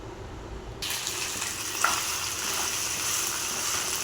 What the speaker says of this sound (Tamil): நம்ம ஒரு கடாயை அடுப்பில் வச்சுட்டு நம்ம கோவக்காவை ஆயில் ஊற்றி நல்லா ஃப்ரை பண்ணி எடுத்துக்கலாம்